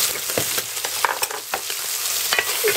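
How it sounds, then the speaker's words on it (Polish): Bacon frying in its own rendered fat, a close continuous sizzle and crackle punctuated by several sharp clicks of stirring and pan contact, with no voices. "i smażę dalej boczek tym tłuszczem, żeby był taki kolor rumiany"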